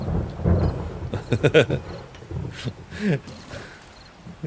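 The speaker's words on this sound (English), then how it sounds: "Oh, the rain." Rain and rumbling thunder from the video game 7 Days to Die, a broad storm wash with heavy low rolls swelling and fading throughout, with brief voice-like bits in the mix.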